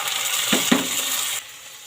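A spatula stirs shredded cabbage and tomato in a frying pan with a steady sizzle, two quick scraping strokes standing out before the frying hiss drops away.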